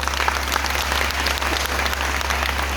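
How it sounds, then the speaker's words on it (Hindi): An indoor audience applauding steadily at a motivational speech event, dense continuous clapping with no voices, loud and close throughout. "उनके लिए ताली हो जाए।"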